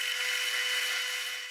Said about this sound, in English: Now I just need to go over to the drill press and drill out the holes.